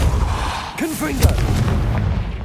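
A Confringo fiery explosive spell blasts in Hogwarts Legacy with a muffled boom amid steady game rumble, plus a short wavering voice-like sound in the middle.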